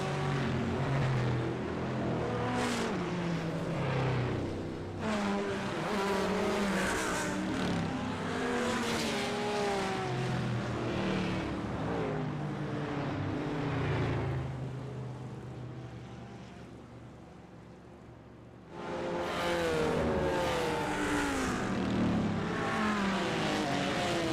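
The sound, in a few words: race car engines including Ford Mustang, sim racing video game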